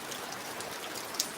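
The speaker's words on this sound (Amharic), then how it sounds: "ዝናቡ።" Heavy rain pours down in a soft, steady hiss with no voices, and a single brief tap stands out near the end.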